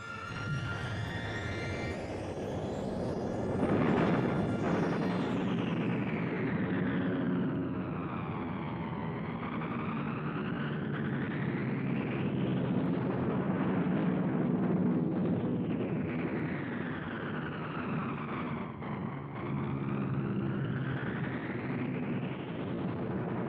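Luftwaffe aircraft engines drone loud and continuous during a WWII air attack on troops boarding ships in Norway, with the pitch sweeping up and down as planes pass overhead.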